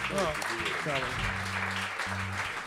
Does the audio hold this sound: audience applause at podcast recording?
yes